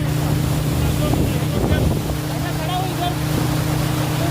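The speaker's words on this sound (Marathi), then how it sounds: "बोटिंग चाललेलं आहे" A motorboat drones steadily on a lake in Munnar, Kerala, close and loud, with heavy wind buffeting the microphone, water wash, and voices talking over the engine.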